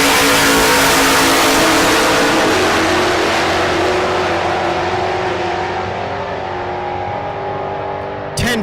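A first-generation Camaro and an old hot rod roar off the line in a drag race, loud engines revving hard and fading slightly as they pull away down the strip.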